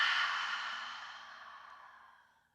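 A single long open-mouth exhale from a yoga breathing exercise, breathy and close, starting strong and slowly fading away over a few seconds.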